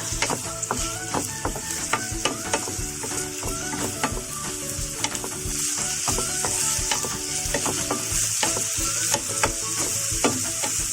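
Pork belly fries in hot oil to render lard, giving a steady, dense sizzle with repeated stirring scrapes and clicks throughout, close and continuous, with no talk.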